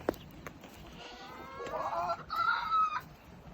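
Chickens cluck and squawk nearby, a few short, rising calls clustered in the second half over a quiet outdoor background.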